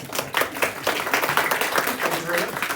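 A small audience claps at a user group meeting to celebrate a passed certification exam, a brief burst of lively applause filling the room at close range.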